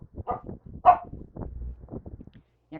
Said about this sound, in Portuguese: Minha cachorrinha já está querendo que a gente termine a aula. Tá me chamando.